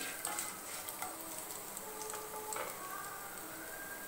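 Chana dal roasts in a pan with a soft, steady sizzle and occasional light scrapes of stirring, quiet and close with no talking.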